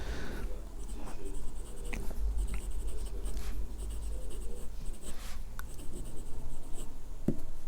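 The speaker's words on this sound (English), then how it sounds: "And let's do the writing sample." Jinhao X750 fountain pen in Black Shimmering Sands finish writing a sample on paper, its nib giving a steady close scratching with small taps and strokes, over a low constant background hum.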